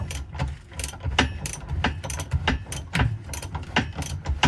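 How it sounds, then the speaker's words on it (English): Ratchet cranking down the spare wheel carrier on a Fiat Ducato van, a steady run of close, crisp metallic clicks with uneven rhythm, heard alone. "I'm going to wind it down on my ratchet"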